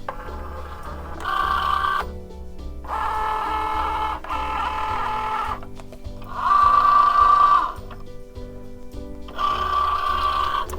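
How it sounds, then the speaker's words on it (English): A Cricut Joy cutting machine loads a sheet of card, giving several bursts of motor whirring and high mechanical whine separated by short pauses. "So let's get our Cricut ready to go as well. So the machine is ready to load."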